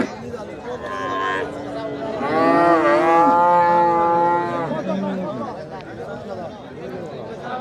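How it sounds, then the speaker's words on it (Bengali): Several cows moo at a busy rural cattle market beside a ferry ghat, with long low calls rising loudly near the middle, under steady crowd chatter and voices. "আরও কয়েকটি গাভী আপনাদেরকে দেখাই যে এই পাশেও রয়েছে"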